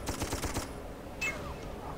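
Rapid gunfire in the video game Darkest of Days, a quick volley of shots over a steady background roar that stops abruptly, followed by a brief whooshing sound.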